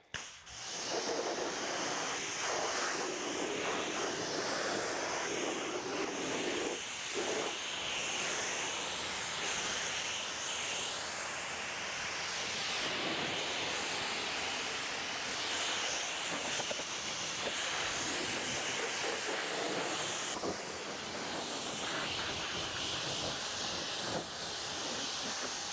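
A pressurized water spray hisses continuously against a car being rinsed after snow foam, loud and close, with slight shifts as the stream moves across surfaces.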